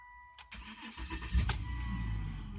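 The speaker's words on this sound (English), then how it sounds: "Car starts up just fine." A 2012 Volvo XC90 that had been failing to start cranks briefly after a few clicks, then catches and settles into a steady idle, close and fairly quiet with no talking.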